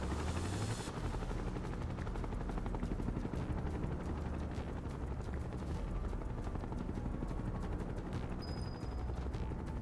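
Shinra helicopters circle overhead in Final Fantasy VII Rebirth, a constant, rapid rotor chop with bursts of gunfire-like crackle over a dense game soundscape, fairly loud and unbroken.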